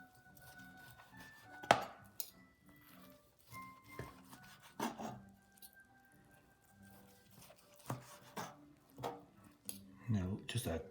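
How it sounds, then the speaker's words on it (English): Knife slicing cooked pork tenderloin on a board, giving a few soft irregular cuts and taps with clinks of a fork, quiet and close, mixed with someone talking. "Slice a couple of pieces."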